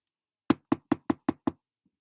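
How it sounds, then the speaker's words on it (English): Six crisp knocks on a door in a quick, even run, close and clear, then silence. "Then he knocked at the door."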